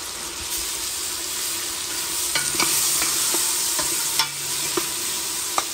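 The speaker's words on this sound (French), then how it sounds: "Je mets les tomates." Two tomatoes fry in a hot pan for a rice, greens and pork dish, giving a steady close sizzle broken by a few sharp utensil scrapes and taps as they are stirred, with no talk.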